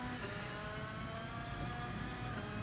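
The engine of a 125cc shifter kart drones as it comes back on the power at the Nürburgring, heard faintly as a steady, buzzing roar with no speech.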